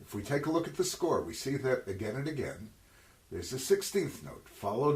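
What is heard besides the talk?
No everyday noises stand out.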